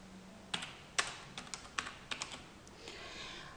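Fingers tap a computer keyboard in a quiet room, a dozen or so crisp clicks in irregular short bursts, some closely spaced, fading into soft background hiss.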